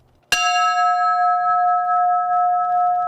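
A memorial bell struck once, a sharp clang followed by a long, steady ringing tone that sustains loudly without fading.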